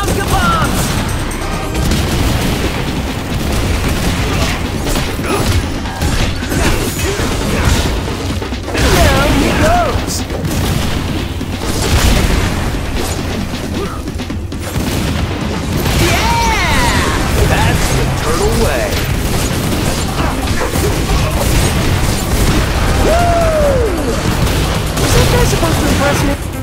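Mouser bombs burst in a Teenage Mutant Ninja Turtles video game, a steady run of loud booms and crashes within dense game noise and music, with excited speech over it throughout.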